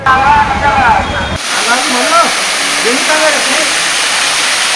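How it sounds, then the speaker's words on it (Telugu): A waterfall at Siddharamappa Kolanu near Srisailam roars with a constant broad rush while someone speaks over it. "సెలయేటి గలగలలు పచ్చని ప్రకృతి మధ్యలో ఎత్తు నుంచి పడే జలపాతంతో"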